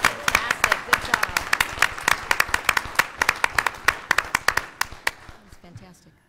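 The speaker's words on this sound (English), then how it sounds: "Let's give them a round of applause." Applause for senior band students at a school board meeting: a dense burst of many hands clapping, steady and lively, tapering off and fading out near the end.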